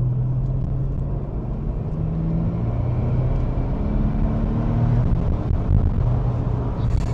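A car engine gives a loud, close, continuous rumble that slowly rises in pitch as it accelerates, with no talk.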